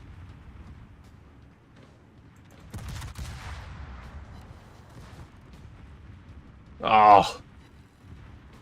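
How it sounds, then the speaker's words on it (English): Secondary guns on a warship in World of Warships fire a short rumbling volley, fairly quiet under steady engine and sea noise, followed later by a brief spoken exclamation. "Secondaries open fire."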